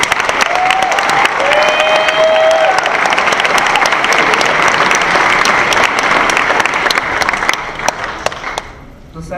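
A lecture-hall audience at a forum event applauds a senator, dense sustained clapping for about eight seconds before fading out, with a few faint whistles over it.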